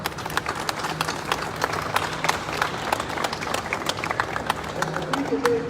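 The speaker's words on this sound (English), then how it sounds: "I wish you'd give the staff a round of applause" Applause from an audience at an airport staff event, steady clapping lasting throughout with some crowd murmur underneath.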